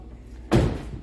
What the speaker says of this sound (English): we're gonna get these doors ripped off